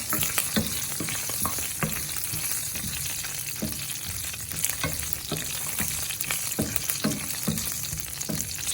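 Food frying in hot oil gives a dense, continuous close sizzle, broken by frequent short scrapes and clicks from stirring throughout, with no voices.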